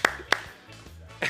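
Sparse claps in a TV studio for a football show, a few sharp separate hits with quieter spacing between them.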